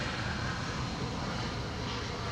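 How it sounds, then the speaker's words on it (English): An airliner landing on the Polderbaan runway at Amsterdam with engine thrust reversers deployed produces a loud, continuous, broadband jet roar that fills the whole span at steady strength. "Don't throttle back the reversers when passing by us."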